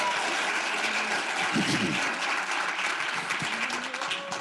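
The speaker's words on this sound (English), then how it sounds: "All right, guys, round of applause." A round of applause at a company meeting: steady, moderately loud clapping from a group, continuous throughout, with a faint voice briefly audible beneath it.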